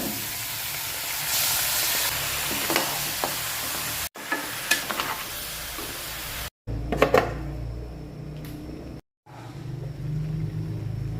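Beef fries in a pan of margarine with golden-browned garlic and onion for caldereta, sizzling steadily and loudly, broken by the scrape and clatter of stirring across several short cuts.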